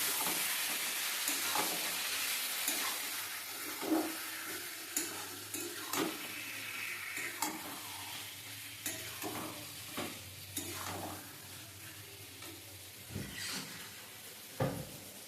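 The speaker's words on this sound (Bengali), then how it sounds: "কিছুক্ষণ মশলার সাথে আমরা ভালোভাবে নাড়তে থাকবো" Chicken for kosha being stirred with spices in a hot pan, spatula scrapes and soft sizzling recurring in a steady rhythm over about fifteen seconds, close and moderately loud with no talking.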